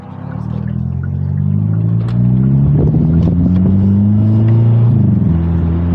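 A Hyundai Kona N pulls strongly in N Grin Shift mode with a loud, close exhaust drone rising in pitch, scattered with crackling burbles and pops.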